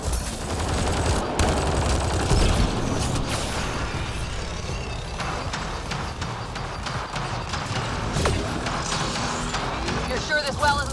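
Turret gunfire in the sci-fi game Mass Effect Andromeda, loud rapid automatic bursts amid battle noise, with voices talking during the fighting.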